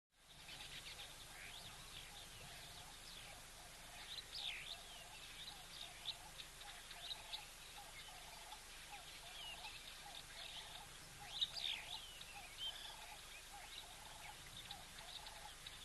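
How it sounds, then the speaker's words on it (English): Ring-necked doves call at a waterhole, their soft cooing repeated in a steady rhythm and heard from a distance, with chirps from other birds mixed in throughout. "And I can hear some ringneck doves calling."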